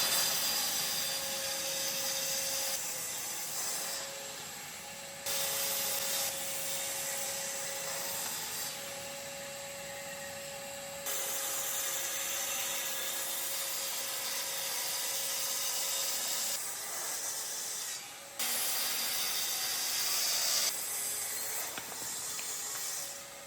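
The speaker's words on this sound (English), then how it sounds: "We're gonna get cranking on the sanding." A Festool Rotex sander on its coarse setting with 60-grit paper works wood for a miter station, giving a steady, loud whirring hiss with a faint hum that shifts level a few times as pressure and position change.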